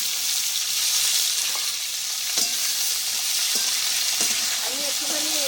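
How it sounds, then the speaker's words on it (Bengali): Cauliflower and potato dry-fry in a pan with a steady, dense sizzle, broken by a few sharp spatula scrapes and stirring clinks toward the end. "আমি একটুখানি এইভাবে শুকনো ভেজে নেবো"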